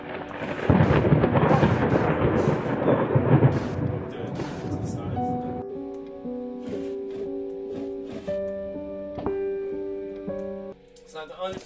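Thunder crashes and rumbles during a lightning strike in the horror video game Layers of Fear, a loud, dense roll that fades into sustained eerie musical tones.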